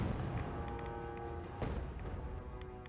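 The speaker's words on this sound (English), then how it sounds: "I've never heard explosions down here like that." Distant, muffled booms and a low rumble from explosions deep underground in the video game Fallout 4, faint beneath steady game ambience, with one slightly sharper thump partway through.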